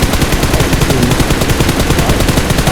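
Loud, fast automatic gunfire in PUBG Mobile, a dense unbroken stream of rapid shots firing close and continuous for the whole stretch with no talking.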